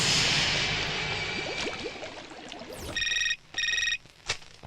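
Electronic phone ringtone in a South Indian action film dubbed into Hindi, two bursts of rapid beeping tones after a whooshing, chaotic action passage, close and fairly loud.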